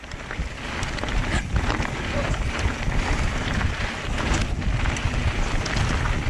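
Wind rushes over a helmet camera during a fast mountain bike descent, a loud, steady, close roar of blustery noise that runs through the whole stretch with tyre and trail rumble underneath.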